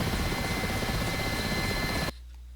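A heavily loaded Mi-8 helicopter in DCS World, steady loud rotor and turbine roar filling the cabin, continuous and close before cutting off abruptly near the end.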